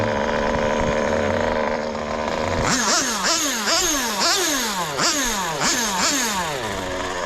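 An OS 15RX nitro engine in an RC car idles with a high buzz, then revs in a series of sharp rising and falling sweeps, loud and close, with no talking.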